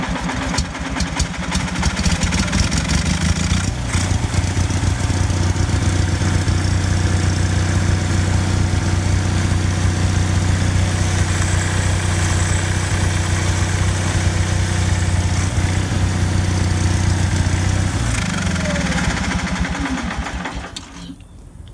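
An Onan generator aboard an MCI MC9 bus conversion runs steadily at close range, a loud continuous engine drone with a strong low hum that cuts out and winds down near the end.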